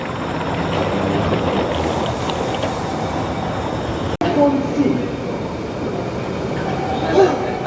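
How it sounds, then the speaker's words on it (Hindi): Singapore MRT metro train at a station, a steady broad rumble of the running train filling the whole stretch, with a brief break and a few faint tonal squeals near the end. "एक और ट्रेन।"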